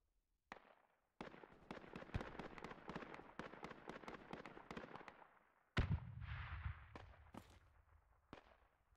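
High-explosive rounds fired in Project Reality, a rapid string of sharp cracking reports followed by a deeper blast and a few scattered later shots, loud and close against a quiet background.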